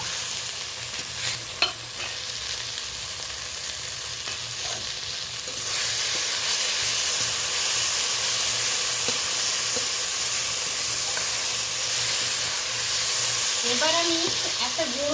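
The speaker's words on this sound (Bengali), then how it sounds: "এই দেখুন পেঁয়াজটাও বেশ ভাজা ভাজা হয়ে গেছে, টমেটোটাও গলে যাচ্ছে" Onions and tomatoes frying together in a pan, giving a continuous loud hiss and sizzle with occasional stirring scrapes, close up. The hiss swells and steadies partway through, with no speech.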